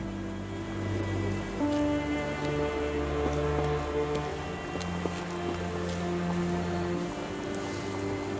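Rain falling steadily in the Sherlock Holmes The Awakened video game, a soft continuous patter under sustained low musical tones, with occasional louder drops.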